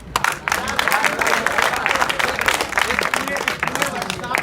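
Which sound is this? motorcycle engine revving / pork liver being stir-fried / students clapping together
students clapping together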